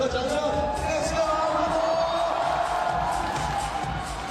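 A crowd at a men's lead climbing final in Wujiang cheers and claps steadily throughout, a dense, sustained roar with a commentator talking over it.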